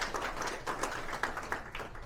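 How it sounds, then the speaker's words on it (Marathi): An audience applauds for Sandeep Sarang at a public talk, a steady wash of many hands clapping together, dense and continuous throughout with a few sharper claps standing out. "मी माझी विनंती आहे की सगळ्यांनी जरा टाळ्या वाजवा संदीप सारंग यांचं"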